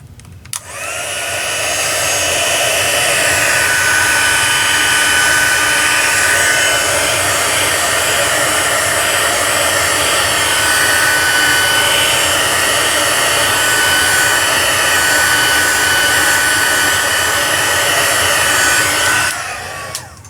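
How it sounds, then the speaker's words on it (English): Heat gun blowing hot air to set and dry stamped ink on a paper card, a loud, steady whirring roar that switches on, runs evenly for about twenty seconds and then cuts off, no voices. "Now I'm going to turn the heat gun on again just to set the color a little bit."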